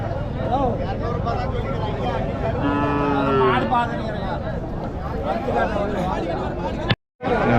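Native cattle low repeatedly at an open livestock market, drawn-out moos rising over a steady crowd babble, with people talking close by and a brief dropout near the end.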